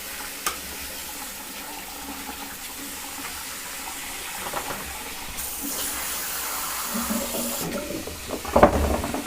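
Hot water sprays steadily from a shower hose onto a vintage Naumann 65 sewing machine, a continuous hiss of water with a louder splash near the end.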